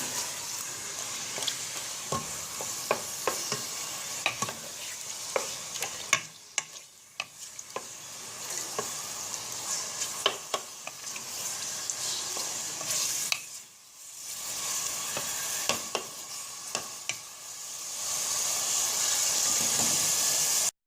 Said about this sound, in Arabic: نخليه يتقلى شويه زيت الزيتون